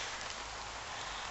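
Rain falls on a tarp at a bushcraft camp in a constant dense hiss of drops, steady and close, with no talking.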